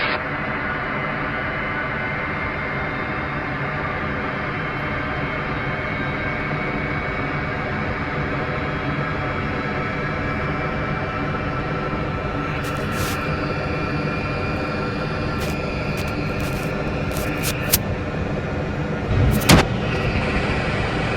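A British Airways jet airliner runs up its engines for takeoff on a Gatwick runway, a steady broad roar holding for the whole stretch, with brief sharp clicks and crackles near the end.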